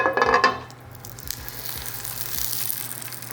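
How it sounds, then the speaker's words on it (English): Tortillas fry in hot oil in a skillet with a steady, close hiss of sizzling that follows a brief clatter as they are laid in the pan, then keeps going alone. "once the oil is hot, we're gonna place our tortillas on the pan and pan fry them"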